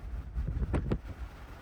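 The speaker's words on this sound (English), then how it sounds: "All right, the wind is insanely intense." Strong gusts buffet the microphone outdoors near a supercell storm in South Heart, North Dakota, a steady low roar with two brief louder bursts midway and no talking.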